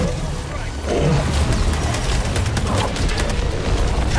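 A laser cannon fires in a video game after a patch buffed the weapon, giving a rapid series of booming, crackling blasts. The shots are loud and dense and run through most of the stretch.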